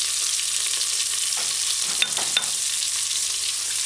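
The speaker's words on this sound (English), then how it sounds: "beef in the pressure cooker and kind of give it a stir and allow the onions to saute" Beef and onions sauté in a pressure cooker for a beef and broad bean brown stew, a steady close sizzle with a couple of soft stirring knocks partway through, no voices.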